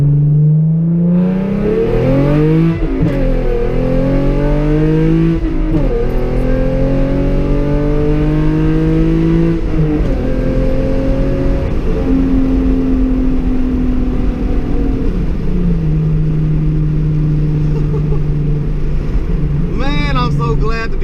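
A Genesis Coupe with a new motor and loud exhaust drones and revs from inside the cabin, pitch climbing through gear pulls and dropping at shifts, with a driver talking over it.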